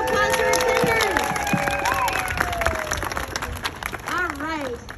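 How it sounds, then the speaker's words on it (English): At a kindergarten promotion ceremony, a crowd claps and cheers, with children's high voices and calls rising above the applause. The clapping stays fairly strong and continuous for several seconds. "Let's give a big round of applause for our Kinder."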